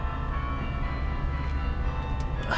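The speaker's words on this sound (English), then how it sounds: "The bells are lovely." Bells ring continuously with a rich, sustained metallic tone, layered and fairly loud, over a low rumbling background.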